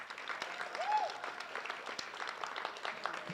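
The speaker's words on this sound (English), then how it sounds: "I'm going to ask our seniors to give an applause to their family members who are here." High school seniors clap for their family members at an awards night; a soft, thin patter of applause from a modest crowd holds steady throughout, fairly quiet and somewhat distant.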